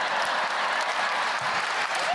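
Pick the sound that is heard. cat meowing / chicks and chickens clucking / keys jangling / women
women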